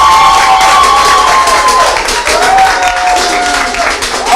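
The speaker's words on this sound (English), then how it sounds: "I think you should do a big round of applause for yourselves." A studio audience on a live morning television show applauds and cheers loudly, with dense clapping mixed with whoops and raised voices continuing throughout.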